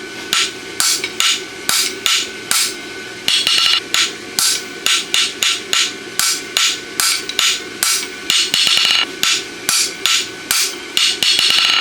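Repeated metallic hammer blows drive a punch into a steel horseshoe while forging, steady rhythmic strikes in close succession, loud and near, with no talking.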